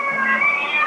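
A toy Halloween kitty cat gives a single short, tonal meow, close and clear, lasting under a second.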